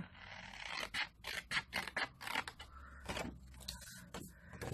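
Scissors snip and scrape through the paper of a Disney Minnie Mouse flip photo album, a quick series of close, crisp cuts with short pauses between them and no voice.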